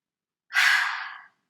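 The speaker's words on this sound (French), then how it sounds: "l'idée, c'est juste de expirer le plus fort possible par la bouche" A single forceful exhale pushed out through the mouth during a children's yoga breathing exercise, a close, breathy rush lasting under a second that starts abruptly and tapers off into silence.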